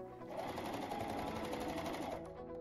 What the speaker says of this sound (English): sew down with a dotted zigzag stitch or a cover stitch machine